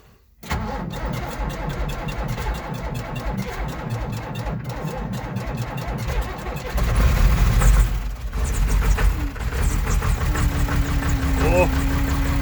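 A John Deere 3155 tractor fires up from cold after the intake heater warms, a sudden catch into a loud rough knocking idle that grows heavier and surges partway through, with someone speaking over it.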